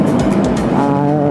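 Suzuki Gixxer S motorcycle on the road, a loud continuous engine drone with wind rush heard from on board, rising slightly in pitch.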